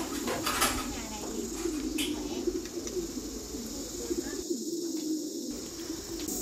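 Pigeons in a farm flock coo softly and repeatedly amid continuous background noise, with a few brief clinks and faint voices mixed in.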